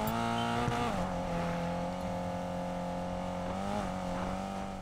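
A car drifting at high speed in the Need for Speed Payback video game on PlayStation 4, its engine holding a steady loud drone with a pitch dip near one second and a rising rev toward the end, heard alone.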